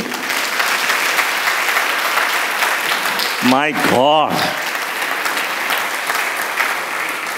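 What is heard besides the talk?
applause in church congregation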